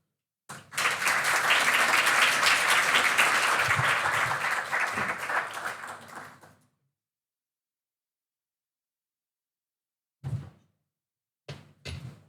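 An audience at a talk on building a sustainable taxonomy for Chile applauds to welcome a speaker, with loud, dense clapping for about six seconds that fades out, then silence broken by a few brief knocks.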